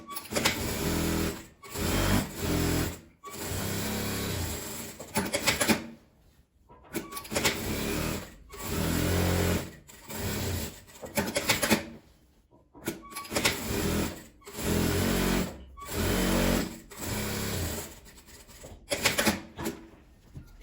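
A sewing machine stitches a patchwork denim jeans bag closed, its lining sewn face to face, in a series of loud, close bursts of rapid needle clatter separated by short pauses.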